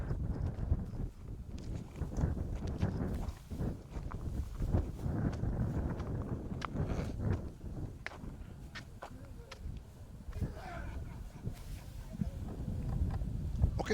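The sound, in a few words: heavy gusty wind on a foggy hill in Dominica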